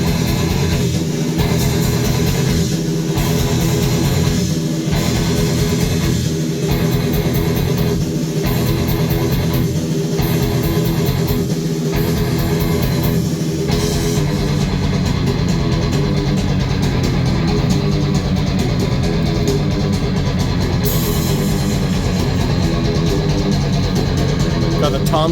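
A full recorded song mix plays continuously with guitar, bass and drums, a steady dense wall of sound with regular rhythmic drum hits and stabs throughout.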